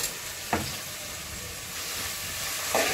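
Tomatoes and onions sizzle steadily in a hot pan on a home stove for a spicy fish curry, a continuous frying hiss broken by two sharp spatula scrapes near the start and end, close and fairly quiet with no talking.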